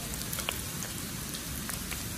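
Spring bamboo shoots pan-frying in oil give a dense, steady crackling sizzle with scattered sharper pops, close and fairly quiet, with no voices.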